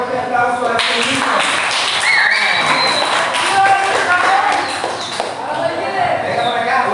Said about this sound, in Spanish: Vamos a darle un fuerte aplauso a este niño.